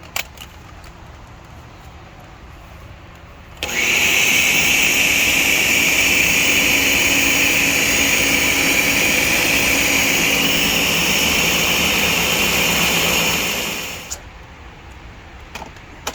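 A blender whirs loudly and steadily for about ten seconds, mixing a Cool Whip mixture at a camp cookout, then winds down and stops, with quiet before and after.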